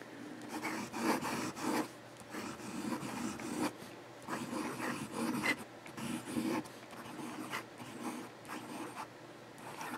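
Noodler's music nib fountain pen writing on paper, a series of close, soft scratchy strokes in uneven bursts with short pauses between them.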